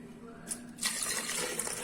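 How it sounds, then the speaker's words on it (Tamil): Water pours into a small blender jar for cashew lemon juice, a faint hiss that swells into a steady splashing stream about halfway through and continues close by. "இப்போ தண்ணி ஊற்றிக்கலாம்."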